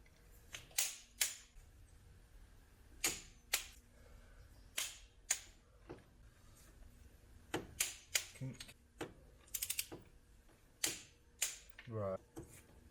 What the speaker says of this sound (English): I do it correctly in the next series of clicking of torquing these bolts.